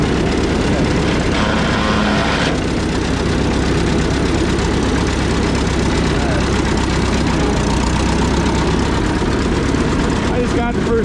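A tractor called Rosie, unrun for at least a year, idles with a steady low rumble while its stuck clutch makes the gears grind as it is forced into first; the engine drone runs throughout with some talk over it.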